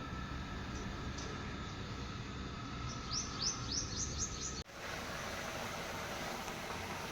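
Several quick, high bird chirps ring out in a short series over a steady low background rumble, then the sound cuts abruptly.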